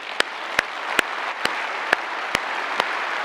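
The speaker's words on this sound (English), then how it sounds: "So please give me a round of applause for their hard work." Audience applause fills the hall at the opening general session of the APTA Expo 2021 public transportation conference: a steady, dense wash of clapping throughout, with sharper individual claps standing out now and then.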